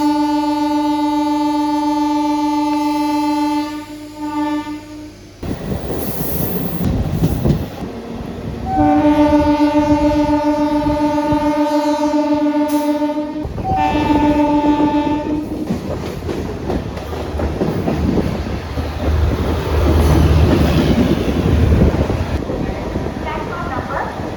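Rajahmundry to Visakhapatnam special express train running, its horn blowing long sustained blasts near and loud, broken by a rumbling, rattling stretch of carriage noise before the horn sounds again, then steady running din.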